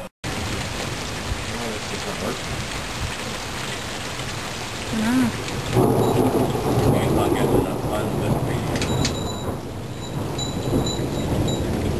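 Steady, heavy rain pours throughout a thunderstorm with lightning, and thunder rumbles low beneath it, swelling louder in the second half.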